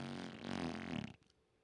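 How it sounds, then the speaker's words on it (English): A single long, loud fart with a buzzing, fluttering tone, trailing off into a few sputters before falling silent. "did you just fart?"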